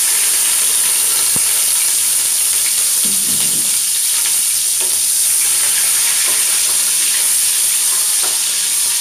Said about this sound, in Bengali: তেলটা গরম হয়ে গেছে, তো আমি পেঁয়াজ দিয়ে দিচ্ছি প্রথমে